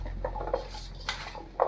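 A spoon scrapes and clinks against a bowl while turmeric and salt are mixed into sweet mango pickle, with a few light knocks and stirring scrapes close by and no talk.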